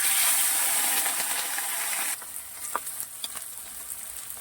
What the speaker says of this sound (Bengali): কড়াই তেল গরম হয়ে গেছে, এবারে মাছগুলো ছেড়ে দেবো।